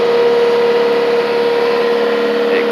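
A Toro riding mower engine runs steady and loud close by with its idle turned up, giving a constant droning tone with no talking.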